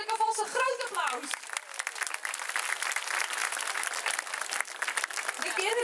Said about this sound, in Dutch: Dus ook voor de kinderen wil ik alvast een groot applaus.